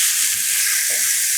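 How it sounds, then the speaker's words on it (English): Fish frying in hot grapeseed oil in a pan, a steady broadband sizzle that holds at an even, close level throughout. "You can tell that I have a nice and hot pan because it starts sizzling immediately."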